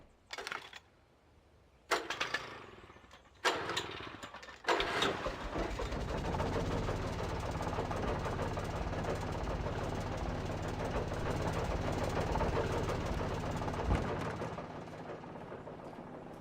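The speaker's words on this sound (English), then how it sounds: "An old generator had been connected to the power cable." Old generator in the Alan Wake video game cranking with several sharp sputtering bursts, then catching and settling into a steady loud rumbling run that continues to the end.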